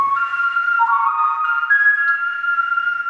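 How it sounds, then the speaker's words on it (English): Melodic whistling from a song played back in a recording studio, sustained clear tones with a few pitch steps, steady and fairly loud throughout, no talking. "It sounds like somebody's whistling."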